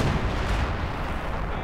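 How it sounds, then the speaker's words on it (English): Artillery rounds fall in the Company of Heroes 2 video game during a 3v3 winter battle at Rzhev, a dense continuous rumble of heavy blasts with no clear gaps, loud and close. "Some more artillery rounds fall in this area."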